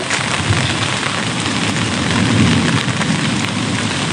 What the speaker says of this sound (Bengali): আকাশের ডাক শুনতেছেন